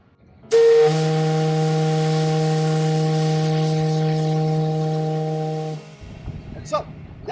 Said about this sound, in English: our whistle here at Old Mackinaw Point Lighthouse was utilized to send the message to the sailors